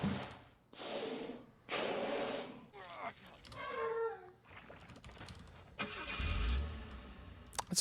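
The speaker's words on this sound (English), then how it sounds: "It's a car. What the hell?" A car sound set off by a cheat code in the video game Torn-Tris plays as a loud burst of engine-like noise with a rising whine, followed by broadband roaring bursts mixed with talk.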